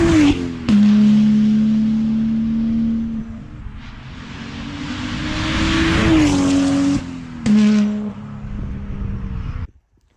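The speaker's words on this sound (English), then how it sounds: "I'll put a clip on screen now of what my car sounds like with this custom exhaust which I've done myself" BMW M235i with a 3-litre N55 straight six and a homemade custom exhaust, revving and accelerating in several loud pulls with gear changes and a tire squeal, alone without talk.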